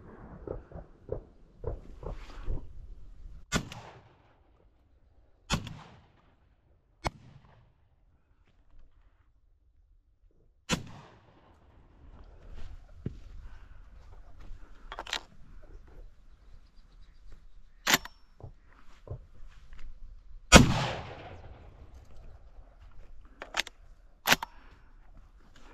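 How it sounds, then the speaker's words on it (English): Distant shotgun fire from neighboring hunters during a Colorado mallard duck hunt: a series of sharp, isolated bangs spaced irregularly over a quiet outdoor background, some faint and far off, a few louder reports. "Our neighbors are shooting"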